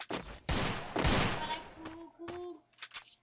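Rapid bursts of gunfire from the video game Free Fire, quiet and choppy, with several short clustered volleys followed by tonal game sound effects.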